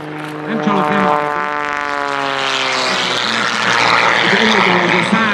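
An aerobatic propeller airplane flies low at the 2019 Budaörs air show, its engine drone rising and falling in pitch as it passes close and loud, with an announcer talking over it.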